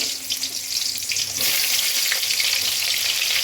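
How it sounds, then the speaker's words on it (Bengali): Eggplant pieces frying in hot mustard oil in a wok give a dense, close hiss that swells sharply partway through, then holds as a loud, steady sizzle. "বেগুনগুলো একটু ভেজে নেবো।"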